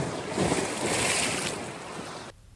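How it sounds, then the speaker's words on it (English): Rough sea surging onto the Greek Peloponnese coast, a steady loud wash of breaking waves with wind roar that cuts off abruptly near the end. "The sea is quite rough."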